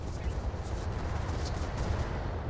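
Battletech mech alpha strike, weapons firing together in a heavy rumbling barrage of low booms and crackling bursts, with a voice speaking faintly underneath.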